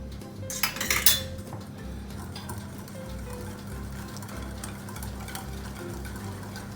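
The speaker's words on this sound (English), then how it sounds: "we'll give it a stir" A utensil stirs oil and milk in a bowl for eggless banana honey muffin batter. A clattering clink opens it, followed by steady close scraping and swishing, and no one speaks.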